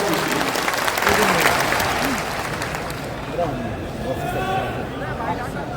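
A crowd at a political rally applauding loudly, sustained clapping that swells then gradually thins out, with some voices mixed in.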